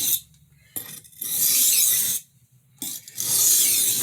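A kitchen utility knife is stroked across a 140 grit sharpening stone, giving close, gritty rasping passes in several bursts separated by short pauses.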